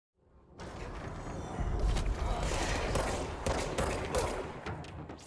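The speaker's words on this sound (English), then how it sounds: "This is your main weapon, the director's gun" The director's gun in the video game Control fires in a sustained burst of rapid, loud gunshots lasting several seconds, with booming impacts and crackling echoes filling the space after a brief quiet start.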